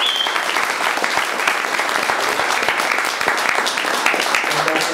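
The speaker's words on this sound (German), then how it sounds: "dann darf ich jetzt mit Freude zuerst einmal natürlich um einen herzlichen Applaus bitten für Herrn Martin Hebner." Warm, loud applause from an audience at an AfD party event in a sports club restaurant in Traunreut, welcoming speaker Martin Hebner; dense, continuous clapping fills the whole stretch with a faint murmur underneath.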